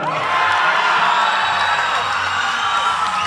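A boxing arena crowd after a unanimous decision in a WBC International super middleweight title fight, cheering and whooping in a dense, continuous roar with no pauses.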